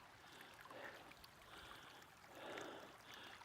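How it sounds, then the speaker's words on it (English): Creek water feeding Obsidian Falls along the Three Sisters Loop, a steady faint rushing flow with gentle swells, heard alone outdoors. "Crossing the creek that feeds Obsidian Falls right here."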